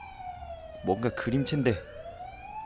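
An ambulance siren from the horror video game Coma wails in a rising and falling sweep, with someone talking over the middle of it.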